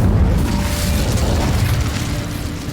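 The Incendio fire spell is cast in the video game Hogwarts Legacy, giving a short, heavy booming whoosh of flame that starts strong and fades out over a couple of seconds.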